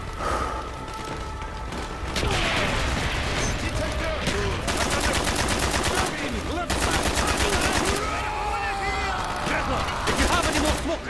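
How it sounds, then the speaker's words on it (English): Mortar and rapid gunfire in the Black Ops campaign, a dense, continuous barrage of shots and blasts that stays loud throughout, with brief shouted voices mixed into the battle. "Mortars inbound! Firing mortars!"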